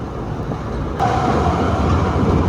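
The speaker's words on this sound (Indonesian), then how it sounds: "ada banyak truk nih." Heavy vehicles rumble past on a road during a motorcycle ride, a steady loud roar with a sharper swell about a second in, and no talk over it.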